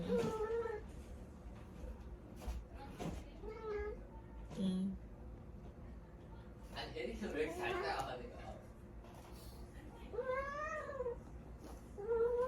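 A cat meows several times, some calls drawn out and wavering, close by, with someone talking softly between the meows.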